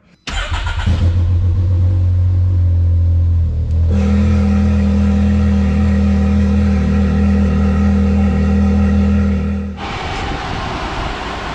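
Can-Am X3 side-by-side engine running loud and close while riding, a steady low drone with a brief rev in the first seconds, then a rising, fuller tone from about four seconds that drops back near the end.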